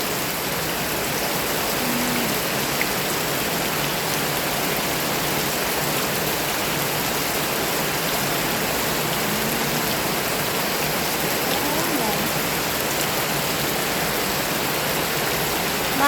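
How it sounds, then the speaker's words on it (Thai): Heavy rain pours down in a steady, loud, unbroken roar that lasts throughout, with no talking over it. "พายุก็ไม่ได้เข้าแล้วนี่ แต่ทำไมตกแรงจัง"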